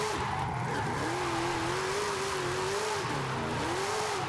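A sports car in Forza Horizon 5 drifts slowly down a hill, its engine holding a steady wavering tone with tires hissing continuously underneath, close and unbroken.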